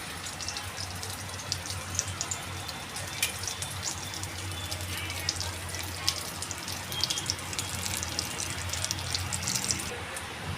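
Beetroot cutlets frying in a pan of oil, a steady fine sizzle with crackling pops, close and fairly soft, continuous throughout with no talk.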